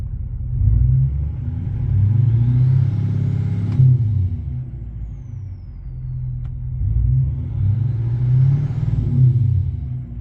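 An L5P Duramax diesel pickup with an upgraded intake revs twice, each pull rising into a deep, loud roar with a faint turbo whistle on top, then easing back to a heavy rumble.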